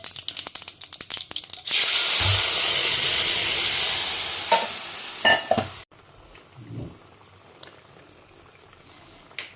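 Curry leaves and asafoetida hitting hot oil for a South Indian tempering set off a loud, steady sizzle that bursts in after a quiet start, spits and crackles, then drops to faint sputtering.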